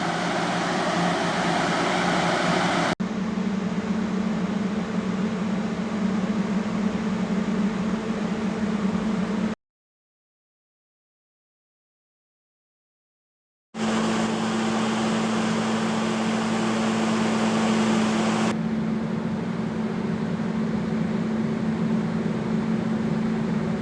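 PowerBreezer Mobile and Sky portable coolers running at top fan speed 10 give a steady, close broadband whoosh with a low droning hum. Several seconds of silence interrupt it before the airflow resumes.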